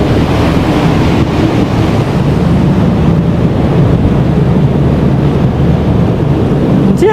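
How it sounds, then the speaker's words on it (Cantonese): Steady wind rushes along the Seine riverside in Paris, a loud continuous blustery roar buffeting the microphone throughout, with a faint wash like water or passing boats underneath. "其實係有啲少少風咯。"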